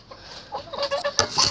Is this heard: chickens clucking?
yes